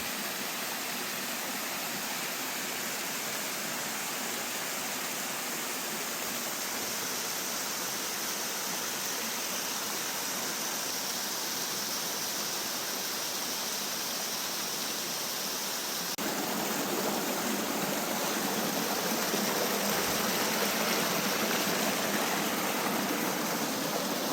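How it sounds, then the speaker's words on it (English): A thin sheet of water slides over rocks in a creek, a constant broadband wash of close, steady rushing that grows slightly louder and brighter partway through, with no voices. "This very thin layer of water going down the rocks."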